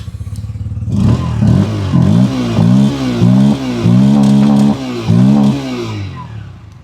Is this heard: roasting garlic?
no